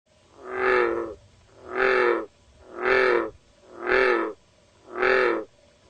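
Five deep, resonant bullfrog calls, evenly spaced about a second apart, each a booming low drone, loud and close.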